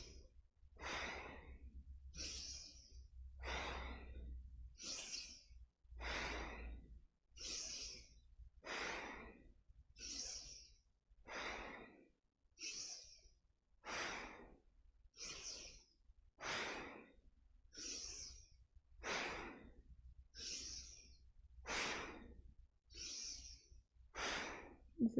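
Slow, deep yoga breaths during a Kundalini-inspired class: steady inhales and exhales repeat in an even rhythm about every one and a half seconds, close and clear, with a faint low hum underneath.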